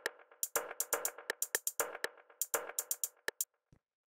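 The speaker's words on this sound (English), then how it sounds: "I have a closed hi-hat and then sort of two percussion sounds." A deep house drum pattern of a crisp closed hi-hat and two extra percussion hits plays in a steady, syncopated groove, short sharp ticks and knocks, fairly quiet, ending with a lone low hit.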